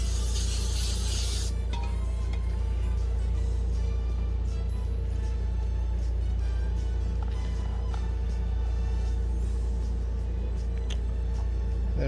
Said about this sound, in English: It's going to get a little bit of Super 77 Scotch 3M Super 77 spray adhesive